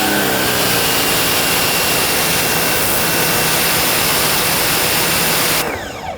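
A Nilfisk C110 pressure washer sprays through a flat stream nozzle, giving a loud, continuous hissing roar at close range that cuts off abruptly near the end.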